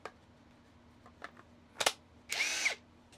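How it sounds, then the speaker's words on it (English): A Ryobi cordless impact drill/driver fires off a few short bursts, then runs one longer, loud whirring stretch of just under half a second. "I actually had to change the battery on my impact drill"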